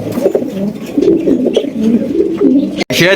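Pigeons coo nearby in soft, repeated throaty calls, several overlapping in a gentle rolling rhythm.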